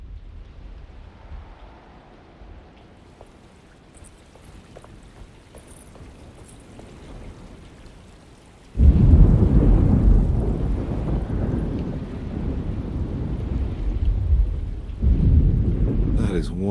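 A thunderstorm in Alone in the Dark starts with quiet, muffled ambience, then a loud rumble of thunder bursts in and rolls on with heavy wind and rain noise. A second surge of rumbling comes near the end.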